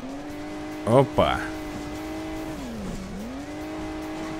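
A small cartoonish car engine in Hill Climb Racing 2 hums steadily with whining tones, its pitch sagging and recovering as the car climbs. A man's brief exclamation cuts in near the start.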